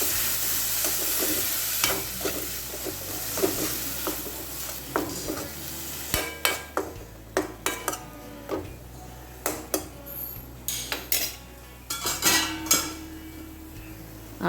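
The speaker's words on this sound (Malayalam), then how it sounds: "ഇനി ഇതിലോട്ട് വേവിച്ച് വെച്ച പയർ ചേർത്ത് ഇളക്കി കൊടുക്കുകയാണ്" Cooked beans are stirred in a frying pan, a spatula clinking and scraping against the metal in irregular bursts over a low sizzle.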